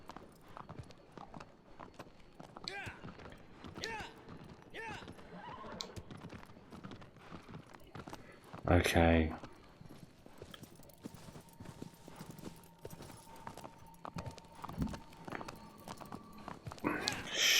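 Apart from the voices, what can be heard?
horse hooves and neighing in video game Shadow of the Colossus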